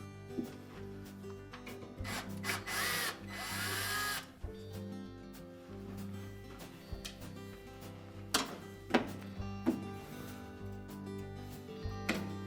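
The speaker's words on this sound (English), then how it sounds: "So just remove two screws on the bottom, one on each side, to remove those trim pieces." Screws come out of the side trim pieces of a Whirlpool range, with a brief whirring driver burst, metallic ticks, and small taps and clatters as parts are handled nearby, moderately quiet and with no speech.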